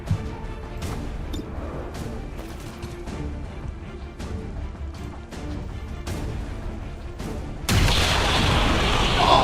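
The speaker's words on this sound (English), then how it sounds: "Oh, that's a beautiful explosion." A loud explosion rips through the battle in XCOM 2, a sudden blast at the end after a steady run of muffled thuds and crashes from combat, without talk over it.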